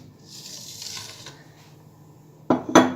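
Cut red kapya peppers drop into a glass jar for pickling, a soft rustle and handling giving way to two sharp, loud clatters of vegetables knocking against glass near the end, with no talking.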